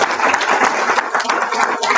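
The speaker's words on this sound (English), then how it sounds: "I just want to give another warm round of applause for Brandon" A warm round of applause from a seated audience at a motivational talk, with close, fairly loud hand claps in a quick irregular patter that keeps going for the whole moment.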